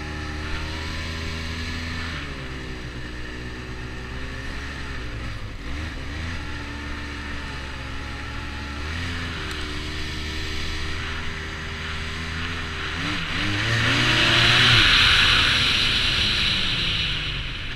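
Engine of a 2009 Arctic Cat Z1 Turbo snowmobile runs steadily, then revs up with a rising whine and turbo hiss near the end before easing back, close and loud with no talking.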